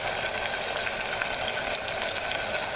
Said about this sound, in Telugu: ఇప్పుడు అల్లం వెల్లుల్లి పేస్ట్ మంచి వాసన వచ్చేదాకా వేగనిద్దాము.